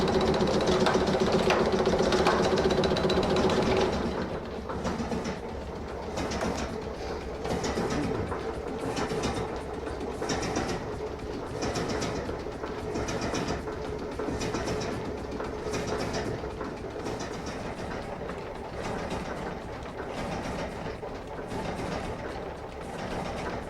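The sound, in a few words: steam-powered H.B. Smith single-end tenoning machine running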